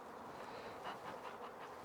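Honey bees buzzing at an open hive during an inspection while the queen excluder goes back on, a steady close hum that swells and wavers without a break.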